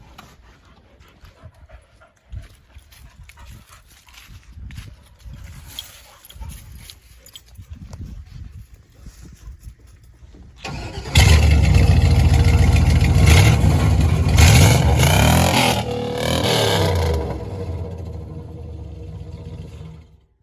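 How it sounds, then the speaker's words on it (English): A 2018 Ford Taurus engine rumbles quietly at first, then starts and roars loudly for several seconds before easing back down, all heard up close. "Alright, now time for you to listen to my 2018 Ford Taurus."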